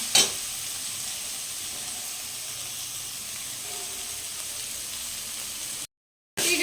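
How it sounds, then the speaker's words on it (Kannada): Chicken fries in a pan with a soft, continuous sizzle and hiss. There is a brief silent gap near the end and no speech. "ಇದನ್ನ ಒಂದು ಟೆನ್ ಸೆಕೆಂಡ್ಸು ಫ್ರೈ ಮಾಡ್ಕೊಳ್ಳೋಣ ಹಾಗೆ ಬಿಡೋಣ"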